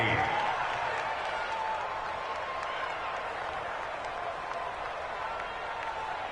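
A stadium crowd in a PS4 football game roars as a big third down approaches, a steady, dense wall of cheering and applause under a play-by-play commentator's voice.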